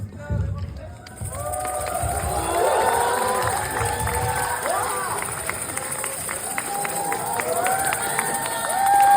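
Cinema audience applauding and cheering as the director and actors walk in for a stage greeting, a sustained roar of clapping and excited shouts that swells after a quiet start, with voices mixed in.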